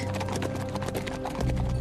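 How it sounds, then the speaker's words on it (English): Horses gallop in a documentary sound effect, giving rapid, close clip-clop hoofbeats in a driving rhythm over a tonal musical bed, with a heavier thud near the end. "With Li Shimin, they broke out of the city and rode for the bridge."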